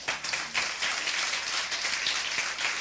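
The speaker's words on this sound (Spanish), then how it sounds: "Denle un aplauso al Señor" A church congregation claps together in a dense, steady wash of applause that carries on without a break, fairly loud and with no speech over it.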